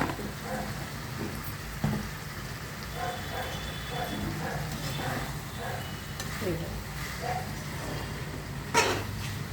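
A cauliflower and tomato curry simmers and sizzles in a pan, giving a steady, moderate bubbling hiss with occasional soft stirring scrapes and clinks.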